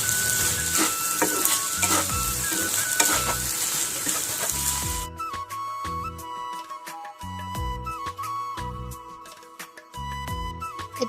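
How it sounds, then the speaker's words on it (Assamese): Chopped dry fruits frying and being stirred in a pan, first with a dense loud sizzle and scraping, then quieter sizzling broken by rhythmic clinks and scrapes of the stirring utensil against the pan. "আৰু আকৌ ভাজি লৈছোঁ এনেদৰে"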